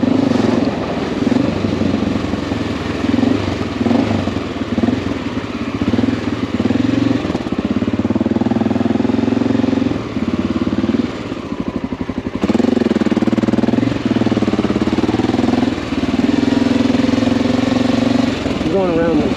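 Honda XR650L single-cylinder motorcycle engine running on a street after a valve adjustment, a steady mid-pitched idle-to-revving drone held close throughout while someone talks over it.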